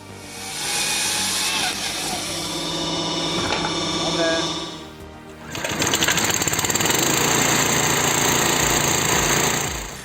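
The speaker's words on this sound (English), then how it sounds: "This saw, powered by a 3-kilowatt motor and inverter, does just that." A homemade firewood saw driven by a 3 kW electric motor through an inverter cuts wood with a loud, continuous mechanical whine and rattle. It shifts after a brief dip into a harsher, steadier high-pitched buzz of the blade in the log.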